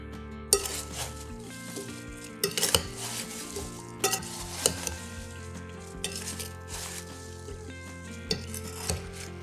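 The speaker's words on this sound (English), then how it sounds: "I'm going to mix all of that together so that our flour isn't lumpy in the filling, and so our spices are evenly distributed" Flour and spices are stirred together in a bowl for apple pie filling, with irregular clinks and scrapes of a utensil against the dish. The close taps are spaced unevenly, with no talking.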